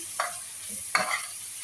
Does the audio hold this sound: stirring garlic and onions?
yes